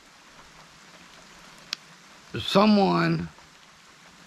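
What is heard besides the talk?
rain falling outside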